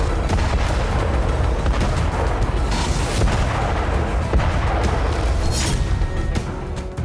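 Missile strikes near the Zaporizhzhia nuclear power plant: a dense, loud, continuous roar of booming blasts and crackling fire, with a few sharper explosive peaks rising out of the din.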